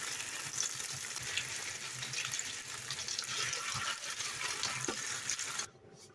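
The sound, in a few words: minced meat frying in a pan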